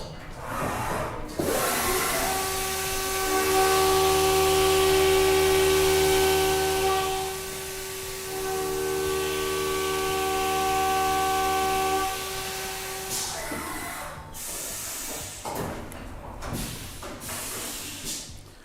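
A Haas CNC machine face mill decking the top of an aluminum piece, a steady loud whining cut with strong sustained tones that rises, holds for about ten seconds and then stops, followed by faint machine clatter.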